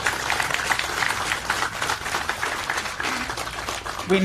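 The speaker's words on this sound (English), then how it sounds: "let's give them a round of applause." An audience at a September 11 remembrance ceremony applauds the military, with steady, dense clapping throughout that has no clear break.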